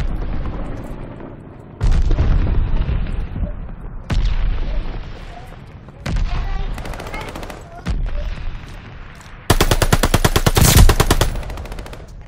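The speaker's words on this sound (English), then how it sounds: "Stun grenade out! Tossing grenade!" Call of Duty Vanguard gameplay with grenade explosions and gunfire: several heavy booms in a row, each opening a burst of gunfire, with a loud rapid machine-gun volley near the end.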